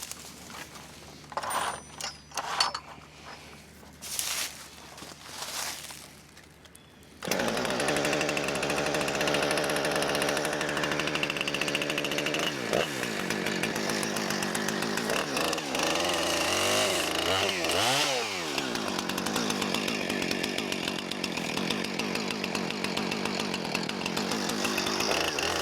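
A mini stump grinder mounted on a small tractor chews into a tree stump, a loud continuous grinding roar that starts abruptly after quieter handling noises and runs steadily close by, with a brief drop in pitch midway.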